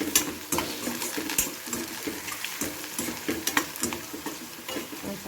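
Soaked poha tossed with chili powder and spice masala in a frying pan: close, continuous scraping stirs and clinks over a soft sizzle, without speech.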